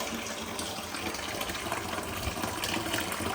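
Water streams steadily out of a squeezed flexible bladder at an even flow, a continuous close splashing gush that holds constant throughout with no talking.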